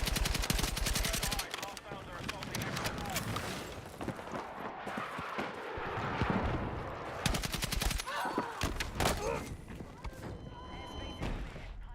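Gunfire rings out during a Battlefield 6 match in dense, loud bursts and rapid automatic volleys, with a voice talking underneath.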